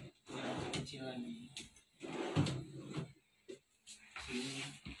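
A small drawer of an aluminium wardrobe slides open or shut, with brief rattling knocks between stretches of a person talking nearby.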